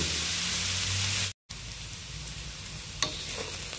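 Food cooking uncovered in a pan, with a dense, even hiss and crackle that cuts out for a moment, then carries on, plus one brief clink partway through.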